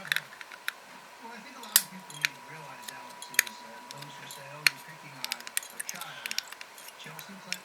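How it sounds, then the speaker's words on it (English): Nippers snipping plastic model kit parts off the sprue while building a PLUM R-Type Final R-9A Arrowhead kit, a series of close, sharp clicks at irregular intervals over quiet room tone. "What I want to do is use my nippers here. And cut all of this off."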